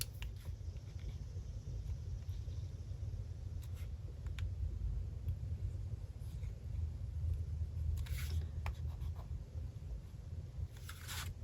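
A pen scratches and scribbles softly on paper close by, a faint continuous scratching over low background rumble.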